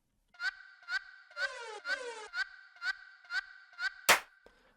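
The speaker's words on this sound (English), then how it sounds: "I also added a alarm kind of sound and a vocal shot," In an electronic track, an alarm-like synth pulses in short regular bursts about twice a second, joined midway by a sliding vocal shot and ending with a sharp noisy hit; clear and alone.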